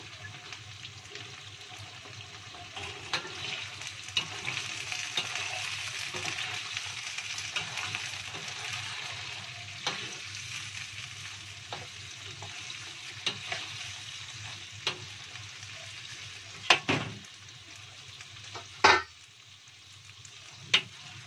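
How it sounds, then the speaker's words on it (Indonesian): Chili peppers and shallots sizzle steadily in hot oil for a spicy pete sambal while being stirred, with occasional scraping and clinks of the utensil against the pan, close up. "sekarang cabenya sekalian dituangkan ya guys ya"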